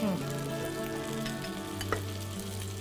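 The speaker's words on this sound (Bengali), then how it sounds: "জাস্ট হালকা করে একটু ভেজে নিই, একটু জাস্ট।" Cauliflower and potato pieces fry in hot oil in a pan, a close, continuous sizzle with brief crackles and one sharp stir near the end, with no talking over it.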